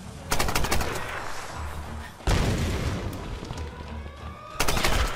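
Rapid bursts of gunfire from shooting enemies in the 2013 Tomb Raider video game, loud automatic volleys filling the clip with sharp booming shots and brief gaps between sustained barrages.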